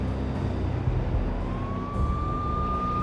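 Police sirens approach in the game Max Payne, a rising wail over a low engine and street rumble, steady and moderately loud.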